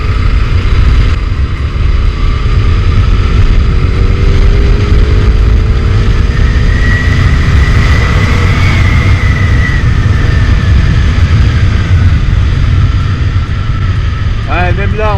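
Yamaha FZ1S motorcycle in sixth gear pulling from about 1000–1500 rpm as the throttle opens, engine note rising steadily under loud, constant wind rush.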